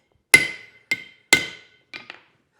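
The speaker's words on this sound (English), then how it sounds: "I don't want to chop all the way through it and chop into my anvil" Iron is hammered over the edge of an anvil to chop it during forging, heard as four separate ringing blows: two heavy metallic strikes followed by two lighter taps, each decaying quickly into silence.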